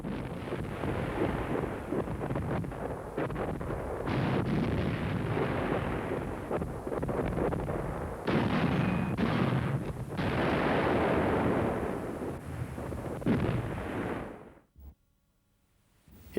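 Heavy gunfire and rumbling blasts from a German Tiger Panzer VI heavy tank's 88mm gun, loud and sustained with repeated booming bursts and wind buffeting, ending in a sudden cutoff near the close.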